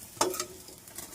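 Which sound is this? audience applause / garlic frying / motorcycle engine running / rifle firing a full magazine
garlic frying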